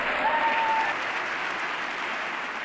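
Audience applause following a president's speech on climate change and new energy sources, a steady dense clapping from a large crowd that holds at an even level throughout.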